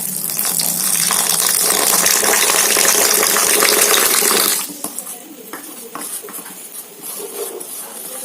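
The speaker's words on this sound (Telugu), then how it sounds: "వాటర్ అయితే పోసేసుకోండి." Water poured into a mixture in a home kitchen, a loud continuous gushing splash for about four seconds that stops abruptly, followed by quieter clinks and stirring sounds.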